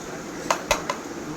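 A baby handling a plate makes three quick, light clinks in a row against a quiet indoor background.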